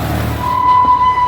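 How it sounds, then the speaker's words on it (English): The Pleasure Beach Express amusement park train at Blackpool rumbles loudly along, a steady low mechanical drone with a sustained whistle-like tone entering midway. "So come on the train now for a nice little relaxing ride round."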